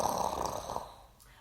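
Children growl in imitation of a polar bear during a story time, a short burst of rough, low, breathy voices that trails off quickly.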